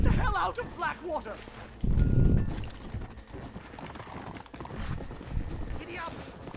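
Horse hooves clip-clop and pound as horses set off at speed from an alleyway in the Western video game Red Dead Redemption, with a short whinny and voices talking over the hoofbeats.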